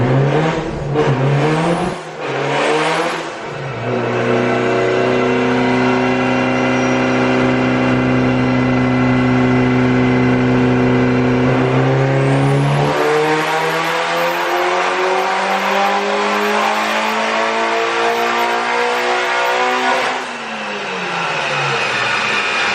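A Mitsubishi Evo 9 running E85 fuel on a tuning pull: the engine blips, then climbs in a long loud rev under load, with a gear change midway and a drop back to idle at the end.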